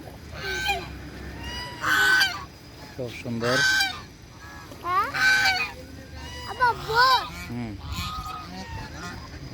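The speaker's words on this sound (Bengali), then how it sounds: "বড় হাঁস" Large ducks give loud, harsh honking calls in repeated bursts across the stretch, close by and prominent, with a person briefly talking between them.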